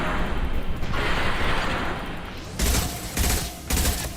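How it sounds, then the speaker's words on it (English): Carnage grenade launcher shots boom in Halo, three heavy, punchy blasts about half a second apart following a dense, roaring stretch of combat noise, loud and close. "they're using Carnage. That's how they're able to freaking blast those shots off at me"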